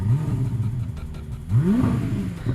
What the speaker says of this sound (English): here's a 710 brake horsepower supercar